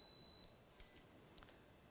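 A Canon XF400 camcorder gives electronic beeps as it warns before shutting off, two short tones at the start followed by faint quieter blips, with no talking.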